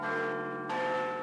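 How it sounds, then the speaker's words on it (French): Big Ben, the clock tower bell in London, chiming. A single resonant bell tone rings out sustained and loud, with a fresh strike partway through and no talking. "Le tintement horaire de Big Ben et son carillon tous les quarts d'heure"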